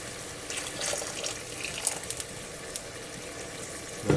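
Water poured from a tap or jug into a pot of beef halim, a soft, steady trickle and splash lasting a few seconds, fairly quiet with a small clatter at the end.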